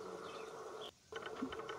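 A European hornet (Vespa crabro) hunting outdoors gives a steady, close buzzing drone that breaks off for a moment and then resumes, faint against quiet surroundings.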